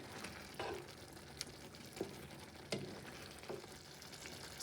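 Eggs are stirred gently through a Kerala egg roast gravy in a pan, with quiet, evenly spaced scraping strokes over a low, continuous sizzle and bubbling, faint and close with no voices.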